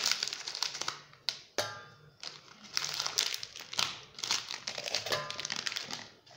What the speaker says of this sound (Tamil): பிளெண்டரில் இப்போது நான் ஓரியோ பிஸ்கெட்ஸை ஆட் பண்ண போகிறேன்.